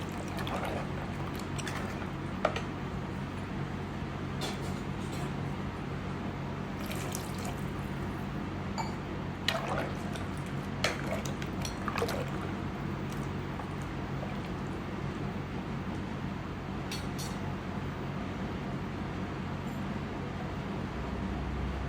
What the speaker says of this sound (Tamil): நான் மறுபடியும் கொஞ்சம் தண்ணி ஊற்றி நல்லா கிளறி விட்டுக்கிறேங்க